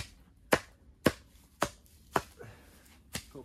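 Six sharp chops ring out at a slow, even pace, a blade striking a board through crisp green plant stalks being cut for greenhouse soil preparation, close and clear in a quiet room.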